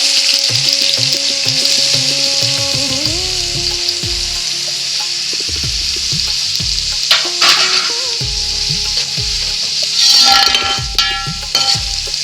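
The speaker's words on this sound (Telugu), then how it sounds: "ఇవన్నీ బాగా ఫ్రై అయిపోవాలన్నమాట" Chopped onions sizzle and fry steadily in hot oil in a pan, a loud continuous crackle with occasional stirring scrapes and clinks throughout, no talking.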